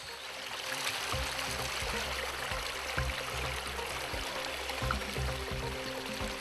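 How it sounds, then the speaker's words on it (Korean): A small mountain stream runs steadily nearby, a continuous broadband rush and trickle of water with no voices over it. "작은 개울에서 잠시 땀을 식힙니다."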